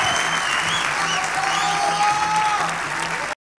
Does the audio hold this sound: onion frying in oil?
no